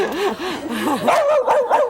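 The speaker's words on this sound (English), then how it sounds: "A dog that barks." A pet dog barks and yips several times in quick succession, close and fairly loud, with whining pitch slides between the barks.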